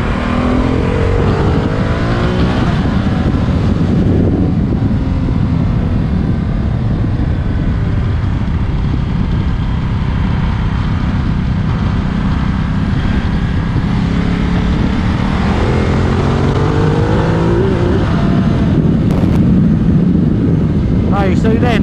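A Ducati Multistrada's engine revs hard on damp, slippery ground as the rear wheel spins up, a loud continuous roar swelling and easing with the throttle under wind noise.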